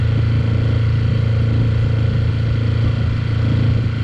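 A 6hp Tohatsu outboard motor idles steadily and close by in freezing winter water, a continuous low throbbing hum with no changes in pace and no voices.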